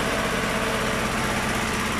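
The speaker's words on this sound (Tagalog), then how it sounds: "Normal naman na umandar yung makina natin kasi diesel at mag-uusok." The diesel engine of a screw-type compressor unit that is putting out black smoke runs at a steady idle, a close, even mechanical drone with a constant rattling vibration and no speech.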